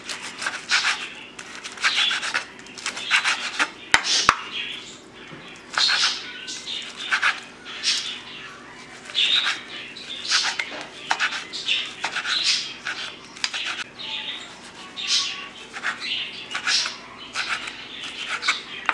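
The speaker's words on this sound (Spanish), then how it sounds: "Vamos a picar nuestra deliciosa carnita." Grilled carne asada being chopped on a board, a steady run of quick knife chops and scraping strokes in irregular bursts, close and fairly loud with no talking.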